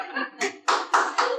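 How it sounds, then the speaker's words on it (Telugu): An audience at a Telugu manifestation workshop applauds with a dense, fairly loud clatter of many hands that swells in waves. "క్లాప్స్"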